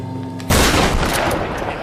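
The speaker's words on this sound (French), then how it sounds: "Donc on va plutôt les faire au fusil à pompe" A single loud, close shotgun blast in the game Tomb Raider erupts suddenly and rolls into a noisy, echoing tail.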